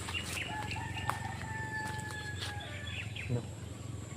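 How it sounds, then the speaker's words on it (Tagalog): Birds call and chirp in an outdoor farmyard, with chicken clucks among them over a steady low background hum; no one speaks. "May mga naririnig tayong ano ng manok."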